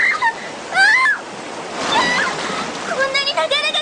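Raft ride down fast-flowing river rapids in the video game Earnest Evans, with a steady rush of churning water running beneath several voices talking.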